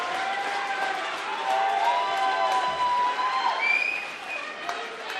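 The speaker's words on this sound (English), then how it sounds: "Well, huge crowd support." Spectators cheer and applaud loudly as a fight ends, a dense, continuous crowd roar with whistles and shouts swelling midway, then easing slightly.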